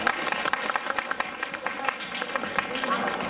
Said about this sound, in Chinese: 我们拿掌声鼓励她一下。